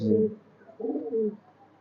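Highflyer pigeons give two soft, close coos, each a low rounded call separated by a short pause, in an otherwise quiet setting.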